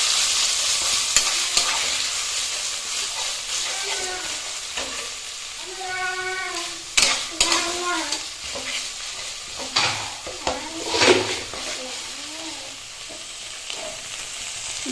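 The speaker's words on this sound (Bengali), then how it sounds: "এবার ভালোভাবে তেলের মধ্যে নাড়তে থাকবো।" Raw banana peel paste is stirred in hot oil, frying with a steady sizzle and close scraping stir strokes that come in bursts, alone without talk.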